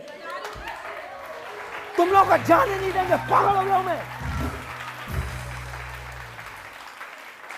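A studio audience on a television morning show claps, a diffuse, moderate patter of applause running under a man's loud, animated talking.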